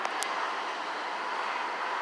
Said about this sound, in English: oil tank train on the track